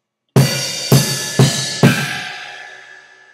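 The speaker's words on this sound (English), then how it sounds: "The bass and the cymbal, almost all the time, they go together" Bass drum and crash cymbal hit together four times in a row, each struck close and loud, with the cymbal wash ringing out and fading after the last hit.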